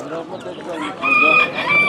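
Chickens cluck and a rooster crows briefly at a poultry market in Sakarya, close and fairly loud, with a person talking faintly nearby.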